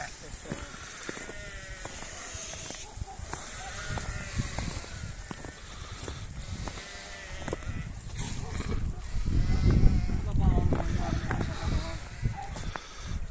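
Breeding sheep bleat repeatedly, several animals calling near and far, while someone talks over them and wind or rustling noise runs underneath.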